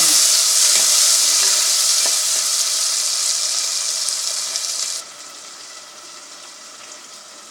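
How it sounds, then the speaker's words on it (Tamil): Tomatoes sizzling as they are sautéed in a pan for a bottle gourd tamarind curry, a steady loud frying hiss that drops noticeably in level partway through, with no talking. "இந்த தக்காளியும் சேர்த்து வதக்கணும்."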